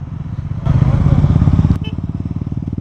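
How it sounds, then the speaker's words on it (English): A Royal Enfield motorcycle's exhaust thumps in a steady low pulse close by, swelling louder for about a second as the throttle opens, then settling back into a rhythmic idling chug. "It's a beautiful sounding Royal Enfield."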